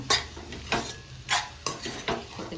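Boti fry, goat tripe, is stirred in a pan, with four or five distinct spatula scrapes against the metal over a soft, steady sizzle.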